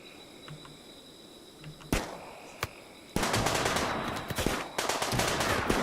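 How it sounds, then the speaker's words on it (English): Rifle fire in the Rimworld video game sounds in sharp isolated cracks, then breaks into loud rapid bursts of gunfire over a quiet ambient background, with no speech. "See what type of range Rhino has on his rifle."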